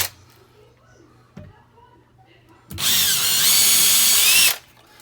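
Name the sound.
power drill drilling holes in a wall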